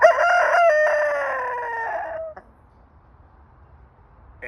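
A backyard rooster lets out a loud, drawn-out crow-like call lasting about two seconds, close to the listener, then the sound drops to near silence before a brief new sound at the end.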